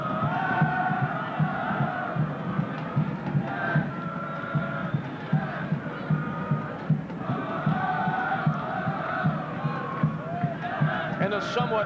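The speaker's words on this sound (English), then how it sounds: "a somewhat lonely chant of some Blizzard supporters here at Varsity" Supporters of the Toronto Blizzard chant in a sparse crowd at Varsity Stadium during a 1989 Canada Day Cup soccer match against Flamengo, a steady rhythmic chorus that rises and falls against the broad murmur of the stands.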